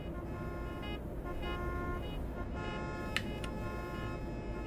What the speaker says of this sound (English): What's going on behind me? I can just hear honking.